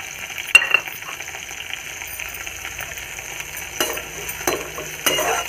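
Green chillies and garlic sizzle in oil in a pan while a spoon stirs them, giving a continuous frying hiss broken by several sharp scraping and clattering strokes.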